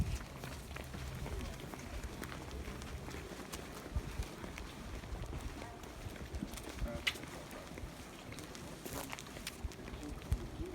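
Hooves of donkeys clip-clop along at Mount Rushmore in a faint, steady patter over a constant outdoor wash, with a few sharper knocks standing out.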